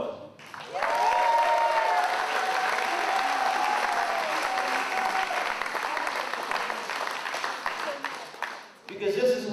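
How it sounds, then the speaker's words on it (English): A crowd at an independent wrestling event applauds loudly and steadily, cheering voices running through the clapping before it fades and talk resumes. "you should give yourselves a round of applause"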